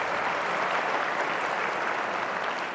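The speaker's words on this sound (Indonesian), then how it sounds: "Boleh tepuk tangan buat teman saya." Steady audience applause at a motivational session in a school hall, a dense even wash of many hands clapping throughout, moderately loud with no voices standing out.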